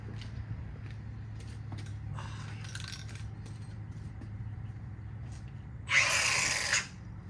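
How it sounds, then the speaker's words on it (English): While repairing a John Deere 3020 tractor, metal is back gouged: a steady low drone and scattered hissing lead to a loud, harsh burst of roughly a second near the end. "now we're on to back gouging"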